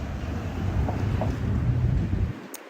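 Wind blows outdoors and buffets the microphone in a steady rough rumble of gusts, fairly loud and close, then cuts off abruptly near the end.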